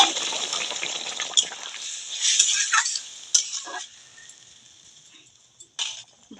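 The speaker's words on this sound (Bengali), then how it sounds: "তরকারিটা ঢেলে দেব।" Curry poured into a pan for a winter cauliflower dish, a wet sloshing pour with clinks of utensil against metal, fairly close, fading after a few seconds into light scraping and stirring.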